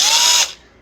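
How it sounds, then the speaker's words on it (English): Keyless chuck of a DEKOPRO 12V cordless drill being hand-tightened, a dense burst of close ratcheting clicks for under half a second before cutting off into quiet. "When you keep turning, you can fit the small little drill bit things in there, get it nice and tight"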